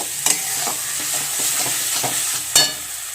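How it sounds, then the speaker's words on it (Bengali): Spice masala sautés in oil in a pan for a pointed gourd and prawn curry, giving a steady close sizzle. A few sharp spatula scrapes and clicks stand out above it, and nobody talks. "দেখো মশলাটা কিন্তু অনেক কষানো হয়ে গেছে"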